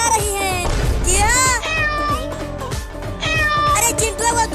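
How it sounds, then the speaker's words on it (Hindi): Three cats meow in continuous, overlapping yowls with rising and falling pitch, loud and close throughout, with a busy mix of other sound beneath them. "ये तीनों बिल्लियाँ मुझे काटने के लिए दौड़ा रही हैं"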